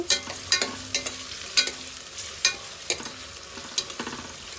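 Onions fry with a bay leaf in a pan for country chicken curry, a steady sizzle broken by repeated sharp scraping strokes of a spoon stirring the pan at close range.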